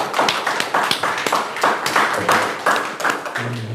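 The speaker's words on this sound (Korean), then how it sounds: "유난히 박수 소리가 큽니다" A church congregation claps during a Sunday afternoon service, sounding as a loud, close burst of many overlapping hand claps with uneven rhythm and a faint tone near the end.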